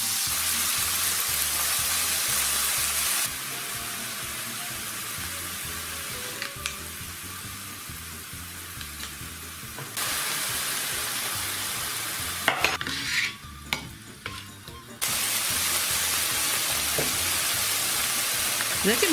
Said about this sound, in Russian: Наливаю на сковороду масло, кладу мясо, солю, перчу, добавляю приправу. Берите какую любите и обжариваю.